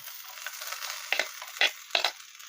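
Boiled jackfruit seeds are being stirred into a hot pan, giving a steady close sizzle with several sharp spoon scrapes and clinks against the pan over a couple of seconds, no voices.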